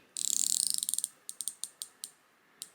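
A Squale Drass Galeazzi dive watch bezel turned through its 120-click ratchet, giving a quick run of crisp, close ticks followed by several separate single clicks, all alone and quiet.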